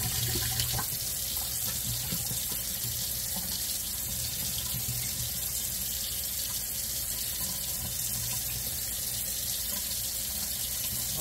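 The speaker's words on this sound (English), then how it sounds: "For right now, I am simply putting some cold water. And I am just rinsing that cheese out." A cold kitchen tap runs steadily into a sink while homemade requeson cheese is rinsed, a close, constant rushing stream of water with faint clinks, no talking.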